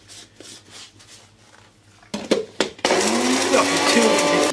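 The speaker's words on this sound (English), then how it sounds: "we can do that in a kitchen blender" A kitchen blender grinds carbonized mushrooms into fine powder, starting with short loud pulses and then running continuously and loudly, with faint voices earlier.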